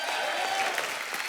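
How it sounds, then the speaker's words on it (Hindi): A studio audience on a comedy talk show breaks into a brief burst of loud, dense applause that fills the whole moment without a break. "एक बार जोरदार ताली हो जाए"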